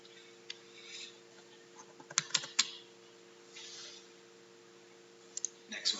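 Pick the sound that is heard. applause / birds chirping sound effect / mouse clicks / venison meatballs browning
mouse clicks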